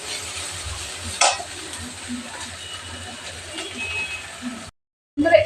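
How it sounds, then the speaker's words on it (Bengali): Lentil dumplings are stirred into radish greens frying in a pan, with a steady low sizzle, a scrape of the utensil against the pan, and a brief cut-out near the end. "বড়িগুলো দিয়ে ভালো করে নেড়ে ছেড়ে নেব।"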